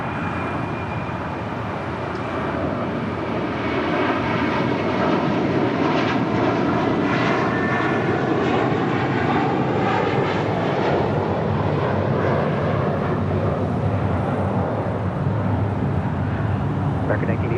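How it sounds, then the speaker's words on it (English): An American Airlines jet, flight 1980 bound for Dallas–Fort Worth, roars on departure at LAX, a loud sustained engine rumble and whine that swells and sweeps in pitch as it passes, steady throughout. "That was American Airlines Flight 1980 heading to Dallas"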